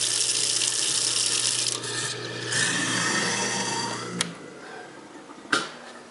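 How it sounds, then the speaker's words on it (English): Kitchen faucet running into a sink fitted with a garbage disposal, a steady hissing water flow under a low hum that tapers off, with a couple of sharp knocks near the end. "turn your water on"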